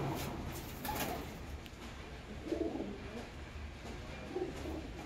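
Pet pigeons being let out of their loft one after another give soft, low coos in a few separate bursts, fairly near, over a faint hiss of outdoor background.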